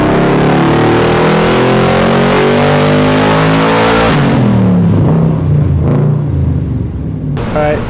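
A twin-turbo Ford Mustang GT on a dyno, its engine loud and steady with rising harmonic revs for about four seconds, then dropping to a rougher, lower idle-like rumble as someone speaks briefly over it.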